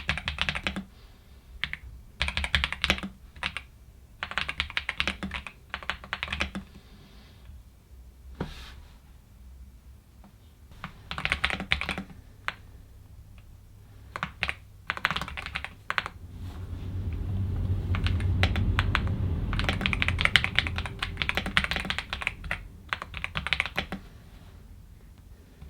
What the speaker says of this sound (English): So when you're actually typing on this keyboard, you're going to get a really enjoyable experience.